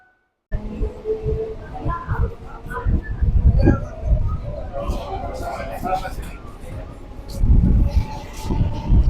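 A local train heading toward Kolkata runs along with its carriage interior rumbling, low rolling thumps and rattles rising and falling, with a person talking over the noise throughout.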